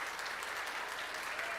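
Congregation applauding during a church celebration service, a dense, fairly faint wash of steady clapping with no other sounds standing out.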